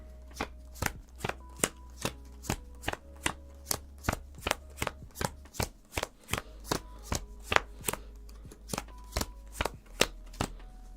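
Playing cards dealt one at a time onto a table, a long run of crisp snapping slaps in a steady, even rhythm, close and clear with no voices.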